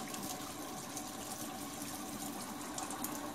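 Water pours and gushes steadily into a Sawyer Select S3 purifier bottle, producing a continuous close splashing fill with no talking.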